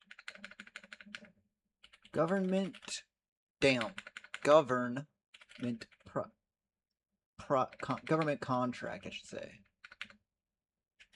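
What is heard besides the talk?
typing on a computer keyboard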